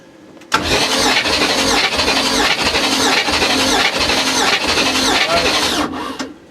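Baja Boss 272 small engine cranking over steadily during a compression test on cylinder number 2, a loud, continuous starter whir with rhythmic pulsing and a squeal that runs for about six seconds before stopping abruptly.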